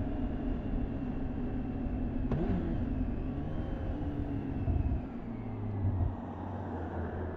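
A BMW K1600GT SE six-cylinder touring motorcycle on the move: a steady, loud engine drone with rushing wind, and a low tone that rises and shifts near the end.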